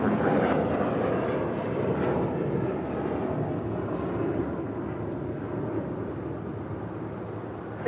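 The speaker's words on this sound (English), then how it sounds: "that is United Airlines flight 2105 coming in from Chicago O'Hare" A United Airlines airliner arriving from Chicago O'Hare at LAX passes as a steady, moderately distant jet roar that slowly fades.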